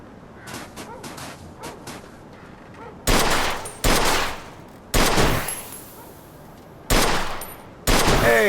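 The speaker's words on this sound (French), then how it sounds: "Tire sur la vieille épave, là-bas." Bursts of gunfire hit an old car wreck in Mafia II, a few scattered shots first, then loud, close volleys of rapid fire separated by short pauses.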